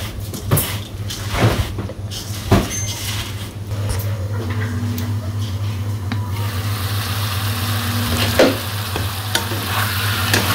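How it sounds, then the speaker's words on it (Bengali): Vegetables stir-frying in a pan in a simple village kitchen, a continuous sizzle with repeated spatula scrapes and knocks against the metal, close and busy, with no talk. "এদিকে সবজি তো কষাইতে দিয়েছিলাম সবজি কষানো প্রায় হয়ে গেছে"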